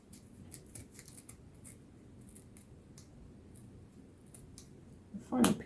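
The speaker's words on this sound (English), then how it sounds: "Just fold it in half and cut towards the outer side." Scissors snip through a folded ribbon end to cut a fishtail for a Christmas window box craft, a run of crisp, close clicks and snips with a louder rustle at the end.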